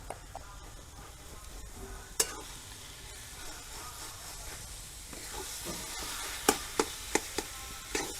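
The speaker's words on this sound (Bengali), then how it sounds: "এবার এটা আলুর সাথে ভালো করে মিশিয়ে নিয়ে একটা আট হয়ে গেলেই তুলে নেব" A vegetable chop mixture with grated boiled potato and fried spice powder is stirred in a frying pan, giving steady close scraping strokes over a soft sizzle. Sharper spoon clacks come near the end, with no talking.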